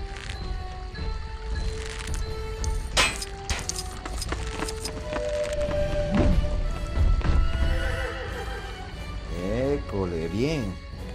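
Horses whinny and gallop in the Lego The Hobbit video game, with clopping hooves, clinks and a rising-falling neigh near the end, under background game sounds and someone speaking.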